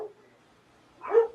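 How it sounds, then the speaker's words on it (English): A dog barks once, close and fairly loud near the end, after a brief faint yelp at the start, with quiet room tone between. "Sorry about my dogs if you can hear them."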